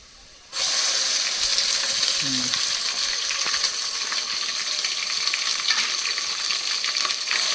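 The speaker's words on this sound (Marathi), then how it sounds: "हा मसाला फ्राय करून टाकतो बघा" Village-style masala fries in a hot pan for mutton curry, starting abruptly after a quiet moment and continuing as a dense, close sizzle with occasional stirring scrapes and clinks, no talking.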